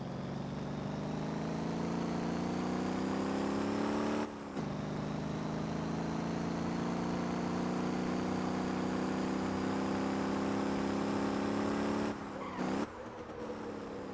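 A tuned car engine in the driving game Motor Town: Behind the Wheel holds a steady, loud drone as it climbs slowly in pitch. Two brief dips mark gear shifts, and no one talks.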